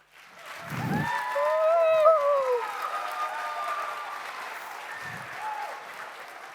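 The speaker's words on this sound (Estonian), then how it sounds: "Aplaus meie tehisarule Mirko Rohtjärv." Audience applause at a school dance performance, steady clapping that swells and then holds at a moderate level, with a sung or whistled melodic tone rising above it and a few low thumps.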